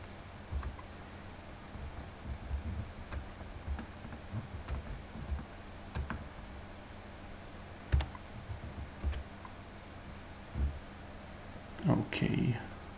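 A computer mouse clicks repeatedly while drawing kanji on a stroke order diagram in the Aedict dictionary app, producing light, irregular ticks scattered across the recording at close range, with faint background noise.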